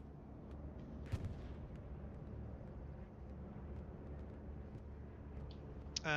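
Bombing run explosions in a multiplayer military video game, a dull continuous rumble with a sharp blast near the start and another burst at the end, fairly faint and without talk.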